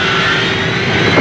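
A Strategic Air Command aircraft roars through its takeoff run, a loud, steady engine drone that swells slightly at the end.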